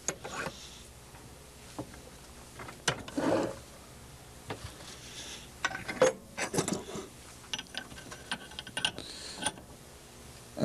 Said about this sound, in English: and then finish screwing it in using your mandrel.